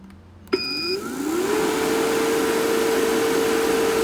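MR45 refrigerant recovery machine after pulling wet, moisture-laden refrigerant: a click and a jolt as it starts, then a loud mechanical drone and a rising whine that settles into a sustained steady tone.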